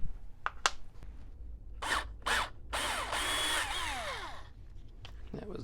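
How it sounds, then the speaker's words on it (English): A small drill bores out a part of a vintage OS Engines 15 RC glow engine in several short, high whirring bursts, some brief and some sustained, with quiet gaps between them. "So let me drill this dude out."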